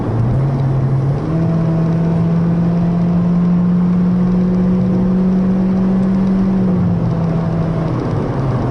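A 2014 Honda Civic EX sedan with a CVT transmission accelerates smoothly, its engine holding a steady, droning hum that rises slightly in pitch and stays even from inside the cabin, with no voices.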